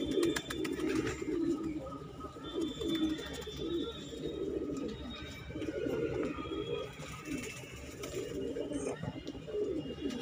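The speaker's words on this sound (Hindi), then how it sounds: "माशाल्लाह सारे कबूतर बढ़िया है मेरे भाई।" Pigeons coo at a pigeon loft during a Madrasi pigeon sale in Delhi, a low, steady, continuous cooing with soft bird murmurs running the whole time.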